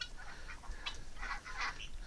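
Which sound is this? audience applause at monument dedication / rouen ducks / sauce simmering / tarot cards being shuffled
rouen ducks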